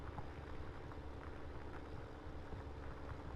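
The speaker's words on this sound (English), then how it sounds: "I think I'd enjoy ploughing in this tractor." Tractor engine in the video game Farming Simulator 17, heard from inside the cab while ploughing: a steady, continuous low diesel rumble with a constant drone and no talk.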